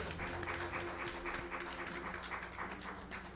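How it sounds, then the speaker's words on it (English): A Baptist church congregation claps hands in praise during a Sunday service, producing dense steady applause over sustained instrumental tones. "give God a hand clap of praise."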